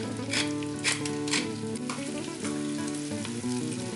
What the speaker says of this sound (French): j'ajoute les morceaux de lapin enfarinés que je vais faire revenir